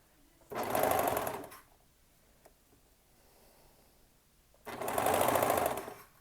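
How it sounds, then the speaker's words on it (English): A sewing machine stitches fabric in two bursts of about a second each, with a quiet pause between them and nearby rustling. The whirring motor and needle are close and clearly audible. "I'll probably sew the main one from this angle."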